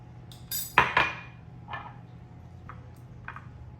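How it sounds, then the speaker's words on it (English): Lime juice stirred into curry paste in a bowl: a few sharp clinks of a utensil against the bowl near the start, then softer scattered taps and scrapes, close and quiet, no voices. "Give it a stir so that you have kind of a nice loose paste"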